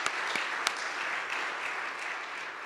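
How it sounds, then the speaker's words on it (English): An audience at a sesquicentennial celebration applauds, a soft, even spread of clapping from a distant crowd with a few sharper nearby claps at the start. "Let's give her another round of applause."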